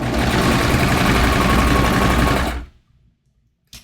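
A serger overlocks a fabric edge while a twin-needle hem is being prepared: a loud, steady machine whir runs for about two and a half seconds, then stops abruptly, followed by a brief soft click.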